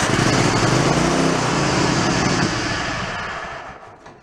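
A small lawn mower engine runs on full choke, a loud, steady high-pitched buzzing roar that continues for several seconds and then begins to fade and drop away toward the end, with no voices.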